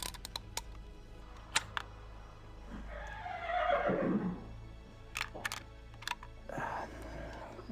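A horse whinnies in the Gabriel Knight 2 video game, one clear descending neigh lasting about a second amid sparse clicks and faint background, with no talk over it.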